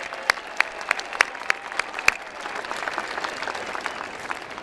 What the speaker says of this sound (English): Let's give a round of applause to all of our coloring contest winners